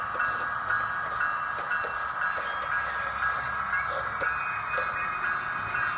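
Soundtraxx Tsunami SoundCar model train cars rolling along the track, a steady close mechanical hum with light clicking wheel rhythm, no voices.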